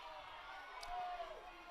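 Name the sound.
soccer crowd voicing displeasure at a referee's call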